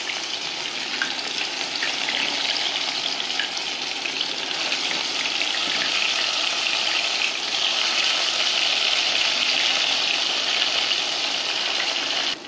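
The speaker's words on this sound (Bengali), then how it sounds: "এখন মিডিয়াম আছে আমি উল্টিয়ে পাল্টিয়ে লাল লাল করে ভেজে নেব।" Piyaju onion fritters deep-frying in hot soybean oil, a steady loud bubbling sizzle with a dense hiss that runs unbroken from start to finish, with no voices over it.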